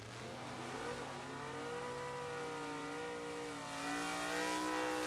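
A Chevy S10 pickup and a Beretta drag racing at the Firecracker Bracket Nationals, with a steady, loud engine roar that climbs in pitch as the cars accelerate away, heard from a distance with no talk.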